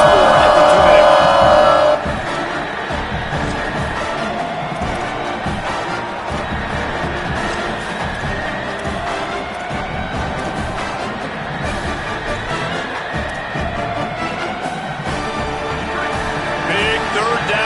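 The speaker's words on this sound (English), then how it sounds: "Big 3rd down as the crowd gets behind this defense." Steady roar of a stadium crowd cheering at a football game on a big third down, a sustained wash of noise under a play-by-play commentator's voice, with a brief louder burst at the start.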